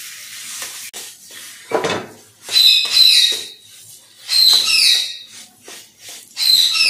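Boiled potatoes are stirred into a spice mix in a pan for potato samosa filling, with loud, close spatula scrapes and metallic clinks in uneven bursts and a faint sizzle.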